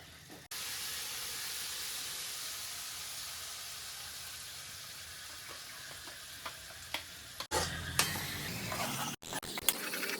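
Steady soft sizzle of masala spices frying in oil, a faint continuous hiss with a few clinks and a brief louder burst near the end.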